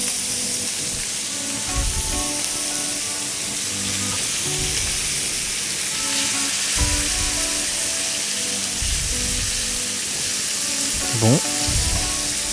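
Meat browning in a hot pan gives off a steady, loud, close sizzle that runs throughout, with occasional stirring and a brief spoken word.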